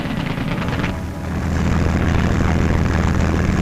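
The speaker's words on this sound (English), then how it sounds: "the sound of aeroplane engines filled the air" A steady, loud drone of World War II aeroplane engines roars continuously, thick and rumbling with a slight swell partway through.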